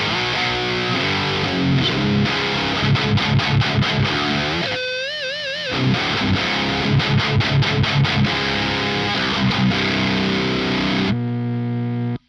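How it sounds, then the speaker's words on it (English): Electric guitar driven through a Schu-Tone Luna Obscura fuzz pedal into an Evil Chunk amp, thick fuzzy distorted riffing with palm-muted chugs, a brief wobbling bend midway and a sustained chord ringing out at the end. "And we'll go ahead and turn on that fuzz,"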